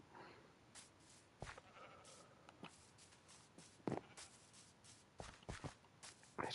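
Sheep bleating in the video game Minecraft, several short faint bleats scattered among soft shuffling footstep sounds, quiet and without speech.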